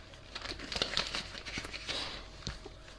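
Paper envelopes being handled and filled with cash, giving soft crinkling and rustling with scattered light taps, close and fairly quiet, with no talk over it.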